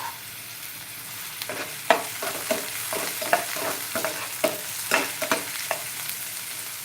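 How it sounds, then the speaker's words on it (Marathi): Chopped onion sautéing in a pan for masale bhaat, with a steady sizzle under repeated scraping stirs of a spoon, close and clear, and no voices. "कांदा चांगला आपल्याला परतून घ्यायचा आहे"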